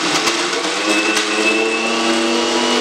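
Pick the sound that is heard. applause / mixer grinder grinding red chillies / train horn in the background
mixer grinder grinding red chillies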